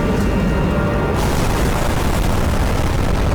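A loud, sustained explosion from a rocket launcher in a Skibidi Toilet animation, with a deep rumble filling the whole stretch, dense and booming without any pause.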